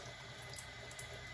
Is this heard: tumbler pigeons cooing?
no